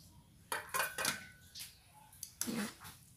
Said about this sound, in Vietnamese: mình sẽ trộn cho nó vô đây luôn